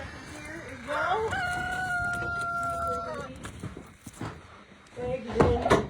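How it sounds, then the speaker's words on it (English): Backyard chickens at a base camp, a rooster giving a long crow up close, followed by scattered clucks and rustling, with other fowl sounds nearby. "Those are the chickens."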